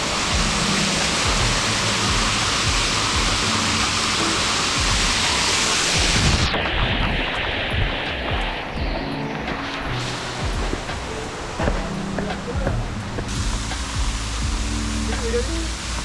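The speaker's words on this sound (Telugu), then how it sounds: "జస్ట్ ఈ కొంచెం వాటర్ పడితేనే అంత పెద్ద వాటర్ ఫాల్ లాగా అనిపిస్తుంది మనకి." A monsoon waterfall at Malshej Ghat roars as a steady, dense wash of falling water, loud and constant throughout with no break.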